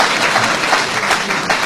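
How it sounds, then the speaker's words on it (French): Audience applause at a speech fills the space, a dense, steady wash of clapping heard alone at fairly loud level. "Il faut applaudir, non?"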